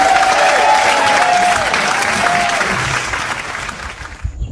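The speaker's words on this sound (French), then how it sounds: "Ça s'applaudit." Crowd applause fills the space loudly and steadily with a few whistles riding over it, then thins and fades out near the end.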